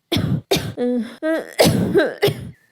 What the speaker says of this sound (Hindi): कुकू की खांसी और भी बढ़ गई है